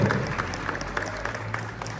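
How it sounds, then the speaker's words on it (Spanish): An outdoor evening crowd at a local summer show applauds, steady clapping held at a moderate level for a couple of seconds over a low background hum. "pues un aplaudiment"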